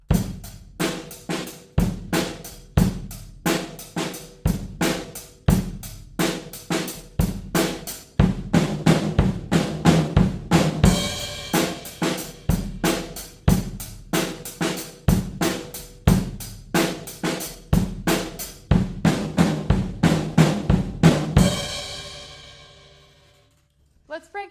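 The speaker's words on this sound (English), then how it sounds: "we're going to play the bass drum first, 2 eighth notes on the snare drum and the floor tom" A drum fill repeated over and over: bass drum thumps, quick snare doubles in eighth notes and floor tom hits in a steady driving rhythm, close and loud, ending with a ringing decay.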